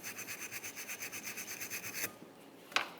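A wire brush scrubbing rear parking brake parts from a 2004-2008 Ford F-150 in steady back-and-forth strokes, about a dozen even rubs, then a pause and one last scrape, quiet and close.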